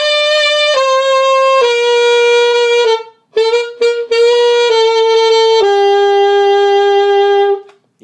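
A saxophone plays the melody of a Mexican corrido, a series of clear, loud, sustained notes in a steady rhythm with brief breaks between phrases, solo with no voices.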